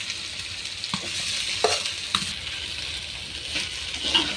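Helencha greens tipped into a hot pan and stirred, giving a steady sizzling hiss with several sharp scraping clinks of the spatula against the pan, all close and without talk.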